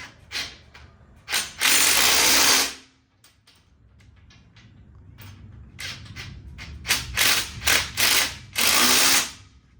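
Ratchet tightening a nut on an antenna mount fitted to the factory cage of a Polaris General, heard up close as bursts of loud, fast clicking separated by shorter clicks and brief pauses.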